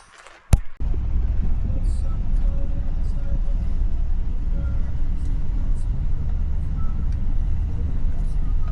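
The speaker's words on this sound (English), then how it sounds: "I'm gonna drive up there now" A car drives up a road toward a remote uphill campsite, a steady low engine and road rumble from inside the vehicle after a brief knock at the start, with speech heard at times.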